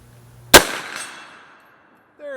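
Single sharp, loud rifle shot from a J5 Tactical .50 Beowulf upper, followed by a long outdoor echo that fades over about a second.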